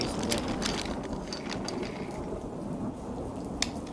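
Heavy rain pours steadily during a thunderstorm on the island of Sodor, with rumbling thunder and several sharp crackles, close and continuous throughout.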